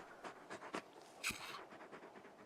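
A big dog pants in the Final Fantasy XVI video game, quick breathy huffs in short irregular bursts with a sharper snort midway, close and fairly quiet with no talk.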